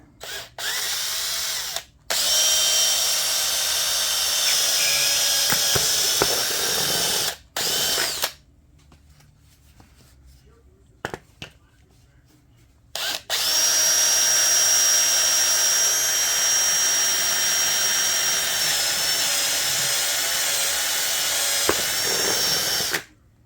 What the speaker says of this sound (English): I'm going to need to drill these out to be able to go over those cap screws